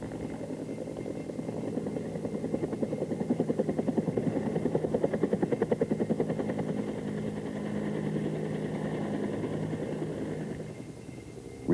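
Bell AH-1 Cobra helicopter gaining altitude, a steady rotor and engine drone with rhythmic blade pulsing that swells and fades slightly, continuous and fairly close, no talk.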